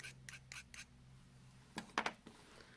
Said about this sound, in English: so I'm going to scrape a little bit more in